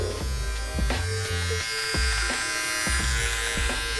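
Philips OneBlade electric trimmer trimming hair, a continuous close buzzing motor with short repeated strokes and slight pitch dips as it passes over the hair.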